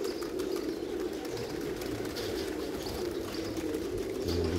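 Many pigeons in a loft, among them double-crested birds, coo together in a thick, constant murmur that holds steady throughout, nearby and moderately loud.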